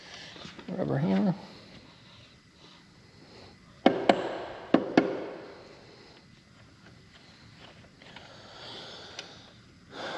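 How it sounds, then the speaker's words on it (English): Rubber hammer knocking on parts of a Deere 450G engine during teardown, two sharp raps close together with a third lighter tap, amid workshop noise and an earlier voice. "Rubber hammer."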